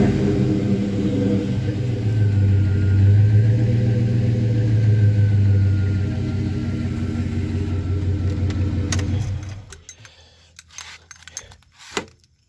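A 2007 Chevy Silverado pickup with a new exhaust replacing a worn-out Flowmaster, its V8 rumbling deep and steady, swelling in a rev, then cutting off, followed by a few faint clicks and knocks.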